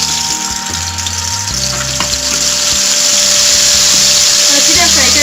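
Chicken frying in a spoonful of oil on a hot tawa over a gas flame, a steady close sizzle running throughout alongside a low hum.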